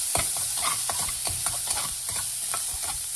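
Onions for a Punjabi-style dhal tadka sizzle in a pan with steady crackling and repeated stirring scrapes, close up and without voices.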